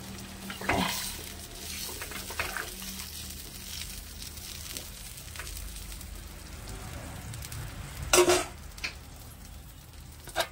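Hot water poured into a pan of sizzling sweet potato stew being cooked at home, giving a steady frying hiss with a sharp burst of splashing sizzle near the end, close by and without talk.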